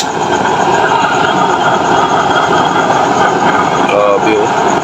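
A custom double-burner waste oil stove roars with a loud, steady, close rushing blast, continuous throughout, and a voice speaks briefly over it near the end.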